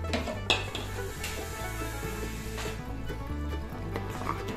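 Onion and cashew paste stirred into chicken cooking in a pan for Mughlai chicken, with steady scraping and soft sizzling, occasional utensil clinks against the pan, close and continuous.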